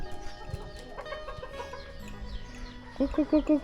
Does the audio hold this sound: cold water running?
no